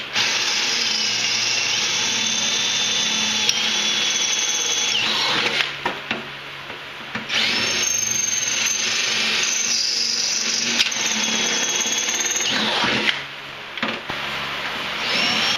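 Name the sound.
power drill drilling out rivets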